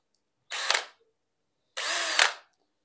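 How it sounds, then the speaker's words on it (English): A cordless drill set to hammer mode bores into concrete block in two separate bursts, each a loud, rattling whir lasting under a second, with silence between. "for block work, we need to put our drill into a setting called hammer mode"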